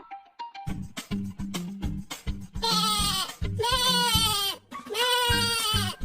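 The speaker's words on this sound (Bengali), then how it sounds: "কি নাদুস নুদুস কিউট ছাগল গো বাপু" A cartoon goat bleats repeatedly, loud wavering cries following a series of short, rhythmic thumps and knocks.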